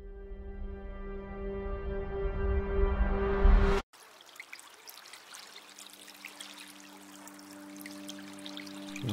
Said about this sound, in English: I wandered beside the running stream